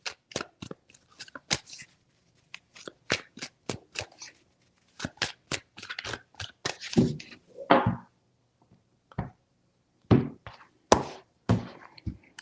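Tarot cards shuffled in three bursts of crisp riffling and snapping, close and fairly loud, with short pauses between handfuls of slaps and a bridge-like flutter near the end.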